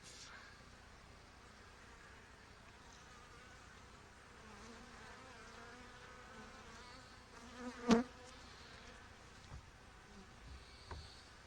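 Honey bees buzz steadily around an opened hive during an inspection, a faint continuous drone with a brief knock partway through and a few small bumps near the end.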